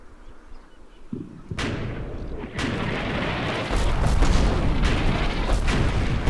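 Artillery fire in the Combat Mission Final Blitzkrieg war game near Cheneux, with a muffled boom followed by a sharp blast and a growing, rumbling roar of impacts and debris that stays loud to the end.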